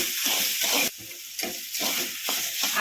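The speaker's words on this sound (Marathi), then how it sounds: "आता त्यामध्ये टोमॅटो भाजून घेऊ" Tomatoes roast in a pan with a roasted masala of coconut, garlic and ginger for chicken rassa, with loud close sizzling broken into bursts by repeated stirring.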